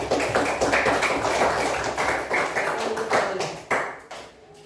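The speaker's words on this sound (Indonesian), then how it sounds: "tepuk tangan dulu buat teman kita" A classroom of students claps for a classmate, a burst of close, sharp hand claps with a slightly rhythmic pulse that tapers off near the end.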